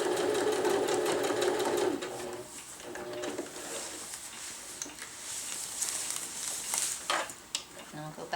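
Sewing machine stitching through top and bottom fabric layers of a hammock camping underquilt protector, a steady close mechanical whir with rapid needle rhythm that pauses briefly before running again.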